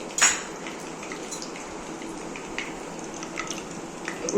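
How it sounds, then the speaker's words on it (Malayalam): Mustard seeds splutter in hot oil in a pan, a constant crackling hiss with irregular sharp pops and tiny bursts, the loudest pop near the start, close and with no speech. "ആവശ്യത്തിനുള്ള കുറച്ച് എണ്ണ ഒഴിക്കുക കഴിഞ്ഞു കടുക് ഇട്ടു"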